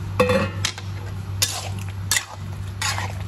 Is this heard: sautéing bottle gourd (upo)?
yes